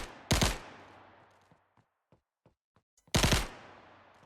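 Two loud bursts of automatic gunfire at a firing range in an Unreal Engine game, each a rapid rattling volley, separated by a quiet gap with faint scattered clicks and ticks.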